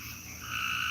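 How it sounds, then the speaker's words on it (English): Frogs croak in a dense, continuous chorus of nature sounds, loud and steady and building slightly, with no voices. "I do actually have a 9-hour video of just frogs."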